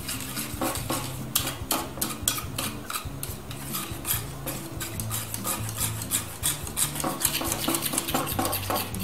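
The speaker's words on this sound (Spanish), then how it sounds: "Vamos batiendo." Whisk beating mayonnaise thinned with milk in a bowl, a steady run of quick scraping, clinking strokes close by, with no talk.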